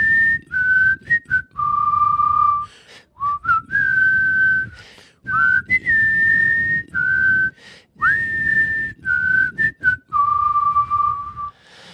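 Someone whistles an instrumental of a song, a melody of clear sustained notes and short phrases broken by brief breaths, close and alone.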